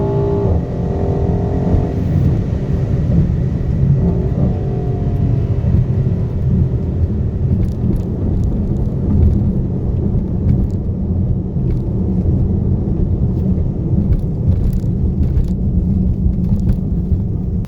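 A stock 2020 Mercedes-AMG GLC 63 S Coupe launches down a quarter-mile drag strip at night, its engine a loud, steady, dense roar that holds unbroken for the whole stretch, heard from inside the car with no talking.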